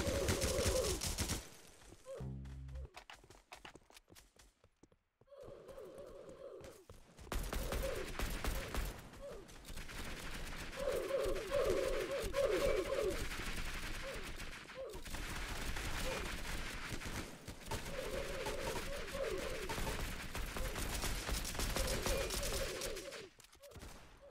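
Gunfire sounds through a Roblox combat game, bursts of rapid automatic shots and clattering mechanisms over a steady game backdrop, with brief pauses between volleys.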